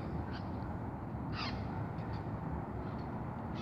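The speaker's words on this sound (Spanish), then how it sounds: "Mira, ahí están los loritos." Wild parrots (loritos) calling in a city park, with a few short, fairly distant squawks over a steady outdoor background of wind and traffic noise.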